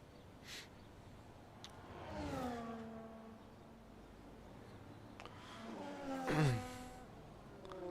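Formula 1 race cars from F1 25 on the Circuit of the Americas, heard as engine notes that sweep down in pitch as they pass, fairly faint and distant over a steady background, with one louder pass near the end.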